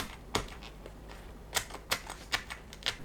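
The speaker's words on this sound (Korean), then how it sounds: "포크로 구멍 뚫어주세요" A fork pricking holes into washed shishito peppers, giving a series of short, sharp clicking taps at an uneven rhythm, close up and fairly quiet, with no talk.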